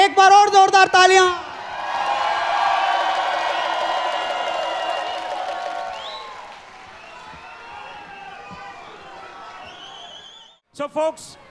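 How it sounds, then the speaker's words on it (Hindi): A large festival crowd at a Kailash Kher live show at Mosaic Fest 2017 bursts into loud, sustained applause and cheering with whoops. The roar swells for several seconds, then thins and tapers away as a voice speaks over it at the edges. "हाथ ऊपर करके और एक बार और जोरदार तालियां"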